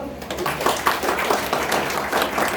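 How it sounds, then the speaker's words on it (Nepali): A church gathering crowd claps hands together in steady, fairly loud applause over about two and a half seconds, with a voice speaking faintly beneath the clapping. "हात राख्नुहोस्, ताली बजाउनुहोस् त"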